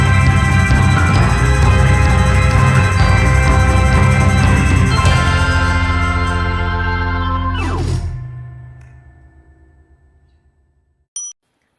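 Sixties-style rock song playing loud and dense with full band, ending in a ringing final chord that fades to near silence, then a brief click.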